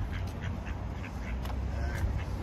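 Ducks quack in bursts over a steady low background rumble, several birds calling close by at an English spot in Ramsbottom, Bury.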